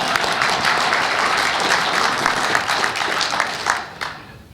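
An audience applauds a speech by a Georgia senator, dense steady clapping from a large crowd that holds for several seconds, then tapers off abruptly near the end.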